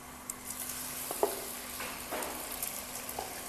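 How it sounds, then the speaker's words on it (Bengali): Garlic paste fries in a pan during home-cooked Bengali mutton kasha, a soft steady sizzle with a few clinks and scrapes of stirring, close but quiet. "রসুনটা একটু ভেজে নেব"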